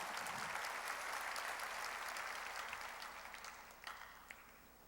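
Congregation applause during a church worship service, a steady wash of many hands clapping at moderate distance that slowly fades toward the end, with a few sharper claps standing out.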